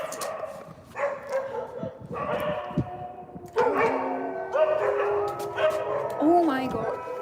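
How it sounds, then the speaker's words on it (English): Stray dogs outdoors at night bark, yip, whimper and howl in a continuing tangle of overlapping calls, moderately near, growing busier and louder partway through, with a voice talking faintly underneath. "These dogs are really irritating."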